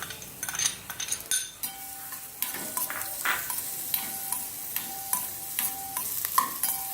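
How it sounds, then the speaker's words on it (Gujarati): Chopped onions sizzle steadily in half a spoon of hot oil while a utensil stirs and scrapes the pan, with a faint steady hum running underneath. "આપણે અડધી ચમચી તેલ નાખી અને સમારીને રાખેલી ડુંગળીને સાતળી લેશું"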